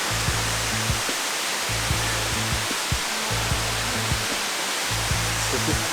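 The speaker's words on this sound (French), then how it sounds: "on est arrivé à la cascade fleurs jaunes. Donc, petit bassin sympathique." A waterfall pours into a small pool at the Cascade Fleurs Jaunes on Réunion island, a loud constant broadband rush of water with no pauses and a low rumble beneath.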